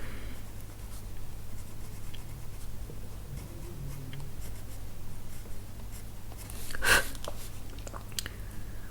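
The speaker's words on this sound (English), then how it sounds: "Could actually also take my white pencil to keep a few things white." A white colored pencil scratches softly and steadily across a coloring book page, faint and close, with one brief louder knock partway through.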